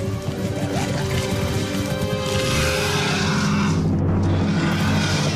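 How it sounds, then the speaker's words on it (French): A tap left running, steady water pouring and splashing in a continuous loud wash with no break, heard close and alone with no voices. "Quelqu'un pourrait fermer le robinet?"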